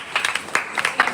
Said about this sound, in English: Please, another round of applause for our speaker.